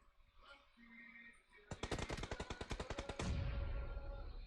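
Rapid automatic gunfire in PUBG Mobile, likely an AKM at close range, a fast burst of about twenty sharp shots lasting over a second, then a rumbling tail; faint game ambience before it.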